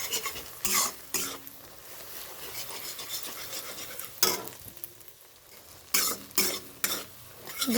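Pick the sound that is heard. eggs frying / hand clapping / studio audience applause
eggs frying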